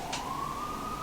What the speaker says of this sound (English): I'm just gonna have to push through it with the siren in the background